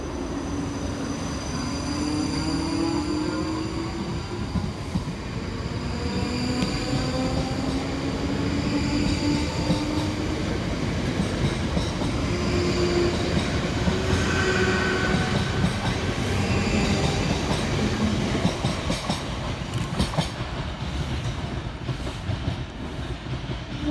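South Western Railway Class 458 electric multiple units passing through Ascot: a rising and falling whine of traction motors with rolling wheel noise and rail clatter, loud and close, swelling as the trains go by.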